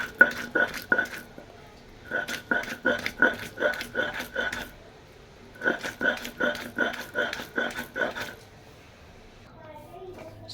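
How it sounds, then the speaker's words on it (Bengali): Boiled flat beans being ground by hand on a flat grinding stone, rhythmic scraping strokes in quick clusters separated by short pauses, close and fairly quiet with no voices. "এখন হচ্ছে আমি যে সিমটা সিদ্ধ করে রেখেছিলাম সিমটা বেটে নেব।"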